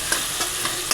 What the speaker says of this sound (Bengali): এবার টমেটোগুলো দেখো কি সুন্দর ভাজা হয়ে গেছে